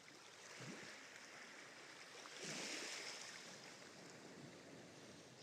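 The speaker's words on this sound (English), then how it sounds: "Letting the soft ocean waves create an ambient background." Soft ocean waves wash steadily as an ambient background, a continuous broadband rush with a gentle swell in the middle, with no voices over it.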